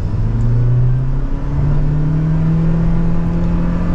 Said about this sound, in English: That is almost pedal to the floor, getting up to speed.